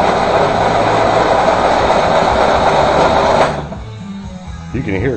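Cub Cadet 282 hydro garden tractor engine cranking over without firing, a steady loud mechanical churn with air sucking, then cutting out abruptly, followed by quieter rustling.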